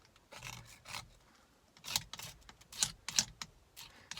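Knife blade scraped like a rasp across a workpiece, giving repeated rough, close scraping strokes that grow louder and quicker toward the end, heard alone in a quiet setting.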